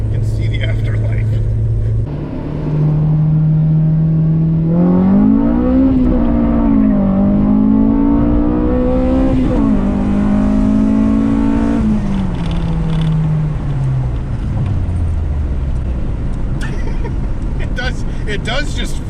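A JDM EK Honda Civic GSR hatchback cruising around town, its engine note rising and falling through the gears with a smooth climbing rev, then easing back down, loud and close from inside the car, with voices talking over it.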